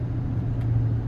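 A 2026 GMC Sierra 2500HD Denali Ultimate with a Duramax engine drives along, heard from inside as a steady low engine drone and road rumble.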